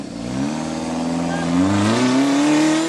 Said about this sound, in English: John powers out of the hole, but strikes a banner with his back wheel